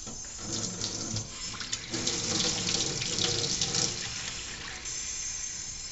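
Cold tap water runs steadily and loudly from a faucet for mixing into a Québec-style pig's feet stew, a continuous splashing rush close by with no talking.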